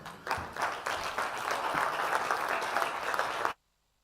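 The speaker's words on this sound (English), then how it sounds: "Sous vos applaudissements," Conference delegates at a Pan-African gathering on illicit financial flows and taxation break into a round of clapping that swells quickly, holds steady for about three seconds, then stops abruptly into silence.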